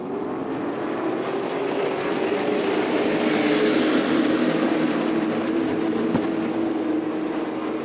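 Race cars roar past at Kern Raceway during a CARS Tour West event, a loud continuous engine drone that swells and fades slightly as they accelerate through the gears.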